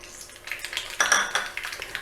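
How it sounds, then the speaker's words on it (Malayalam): Mustard seeds crackle in hot coconut oil in a pan while a Kerala-style pulingari is being cooked. A quick scatter of small, sharp pops and ticks sounds close and light, with a brief sizzle running beneath them. "കടുകൊന്ന് പൊട്ടട്ടെ."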